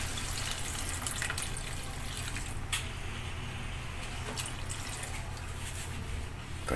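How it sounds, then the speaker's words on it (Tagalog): Water poured into a cooking pot holding shrimp for a vegetable soup, a soft steady trickle and splash running throughout, with a couple of faint clinks along the way. "lalagyan na natin siya ng tubig."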